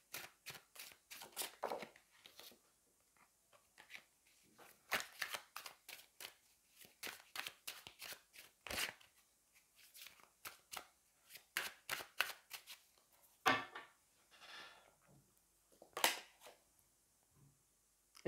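Tarot cards are shuffled close by, quick crisp riffling and slapping bursts in an irregular rhythm with brief pauses, fairly faint and without speech.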